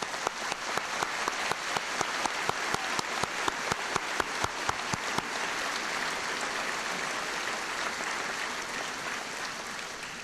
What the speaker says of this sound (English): would the entire class of 1949 please stand for one big round of applause?